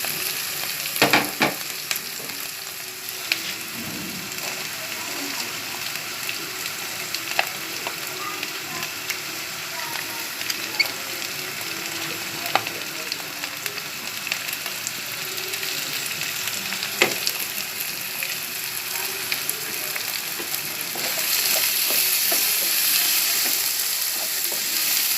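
Bell peppers sizzling with spices in a pan for vegetable pasta, a steady frying hiss with occasional clicks and stirring scrapes, close and continuous with no talking.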